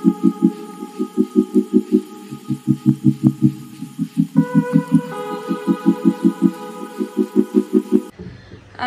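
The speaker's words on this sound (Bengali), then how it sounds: "আমি এখানে ওয়াশিং মেশিনটাও চালিয়ে দিলাম।" A washing machine runs indoors, giving a close, loud rhythmic thumping like a steady pulse over a constant electrical hum, then stops abruptly near the end.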